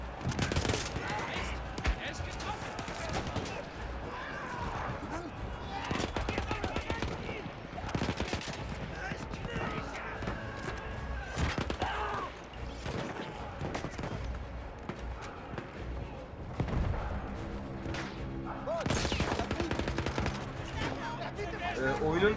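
Sustained gunfire in Battlefield 1, with dense bursts of machine-gun and rifle shots and booming reports continuing throughout amid battlefield noise, with someone talking over it at times.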